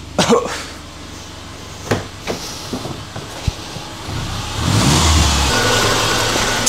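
A 2006 Subaru Impreza engine runs close by, rumbling steadily with a few knocks early on, then rising in a brief rev toward the end.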